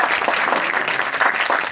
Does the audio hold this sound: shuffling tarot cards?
no